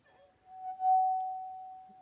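A single cheap drinking glass rings out with a sustained, pure tone that swells and holds steadily, struck or rubbed with air and water, close and alone in a quiet room.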